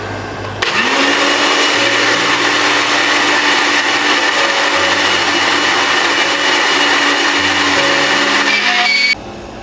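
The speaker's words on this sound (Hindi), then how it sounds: "ब्लेंड करते हैं जी" An electric blender blending a chicken karahi mixture switches on and runs loudly and steadily for several seconds with a high whirring motor, then cuts off abruptly.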